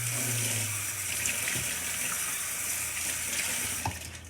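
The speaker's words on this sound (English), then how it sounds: "Now, I need to rinse off this because I need to use this again for the yogurt." Running water from a kitchen tap rinses a measuring cup in a steady, close splashing stream with a low hum underneath, the flow shifting slightly as the cup moves through it.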